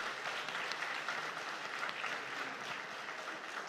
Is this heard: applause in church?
yes